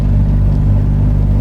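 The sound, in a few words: Simca 8 car engine accelerating in second gear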